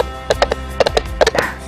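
A horse's hooves clip-clop in a short irregular run of sharp knocks, close and clear against a low background hum.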